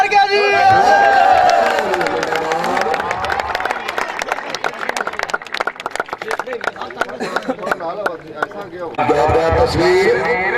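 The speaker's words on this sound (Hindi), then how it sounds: "भाई तालियां बजाओ" A crowd at an outdoor tent pegging horse-riding contest claps and cheers in dense bursts, while a loud announcer's voice runs over the applause throughout.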